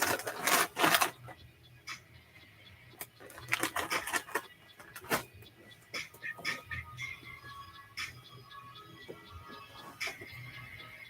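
Tarot cards are shuffled by hand close up, in irregular bursts of crisp riffling and slapping, louder at first and then quicker, lighter flutters.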